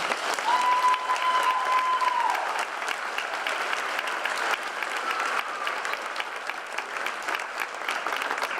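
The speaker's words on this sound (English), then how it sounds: "Please give these outstanding students a round of applause." An audience at a junior high academic awards and eighth grade promotion ceremony applauds the students with sustained, even clapping from many hands, filling the room for the whole stretch, with a brief steady tone early on and no talk.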